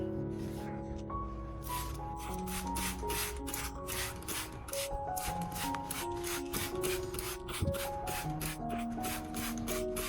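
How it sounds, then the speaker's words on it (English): A spray bottle misting an orchid's leaves gives a rapid series of short, crisp hissing bursts in steady rhythm, close by, over quiet background music. "Then, we'll spray evenly onto the orchid."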